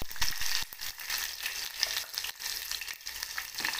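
Garlic sizzles in hot oil with mustard seeds and cumin, a steady crackling spatter with small popping bursts, close and continuous.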